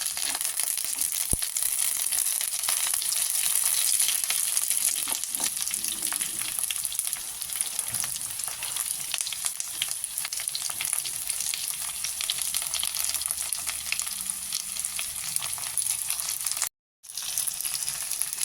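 Onions fry in mustard oil with a small tomato in a pan, giving a continuous bright sizzle close by with faint stirring scrapes, briefly cut off near the end.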